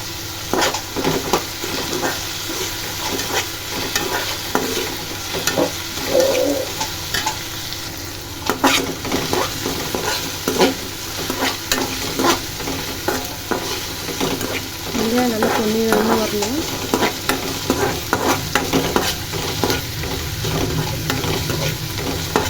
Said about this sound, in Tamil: இப்போ இதோட வெங்காயம் தக்காளி போட்டு வதக்கிக்கலாம்